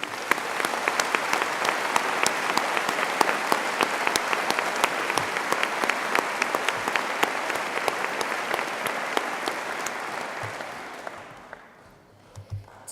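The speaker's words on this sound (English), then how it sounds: "Please join me in giving them a warm round of applause." Audience applause at a university graduation ceremony in Birmingham: a large hall of steady, sustained clapping that holds for about ten seconds before it fades out.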